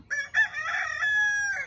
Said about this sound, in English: hear this aggravating rooster crow